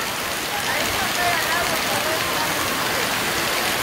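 Storm rain pours hard onto a surface nearby, a thick, continuous hiss of water with a faint patter of drops, steady and loud from start to finish.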